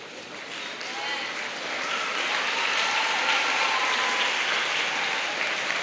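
Audience applause fills a school prize-giving and awards ceremony hall, a dense steady wash of many hands clapping that swells louder after the first second and holds strong throughout.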